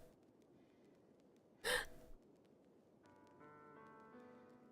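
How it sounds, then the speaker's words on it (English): A sudden, loud gasping breath rises for about half a second from a quiet background of soft tones during a Doki Doki Literature Club game scene, followed by gentle music. "There's like breathing on the background."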